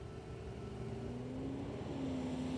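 A restored truck comes up the road from a distance, its engine a faint, low droning hum that rises slightly in pitch and grows a little louder over a couple of seconds, heard alone.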